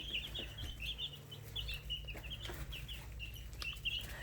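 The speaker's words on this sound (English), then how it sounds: "Let's get a look at these little chicks today." Young chicks on a small farm, about eleven days old, chirp in repeated high peeps throughout, with a low steady hum and soft rustling underneath.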